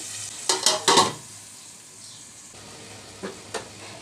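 Potatoes and red lentils stir-fried with fish in a pan, a few sharp scraping stirs up close with a faint oil sizzle and quiet gaps between them.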